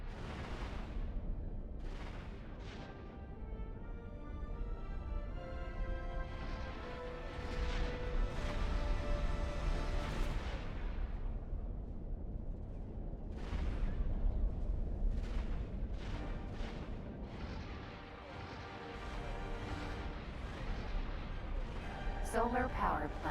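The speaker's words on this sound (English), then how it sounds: "Explosion imminent" Deep booming blasts and rumbling detonations from a space battle in the game X4 Foundations, a run of loud explosions rolling on for many seconds under an ongoing voice.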